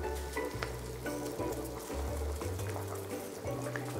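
Imitation shark fin soup with Shaoxing wine and soy sauce bubbles and simmers in a pot, a steady close, busy sizzling texture with low rumbling pulses and no talking.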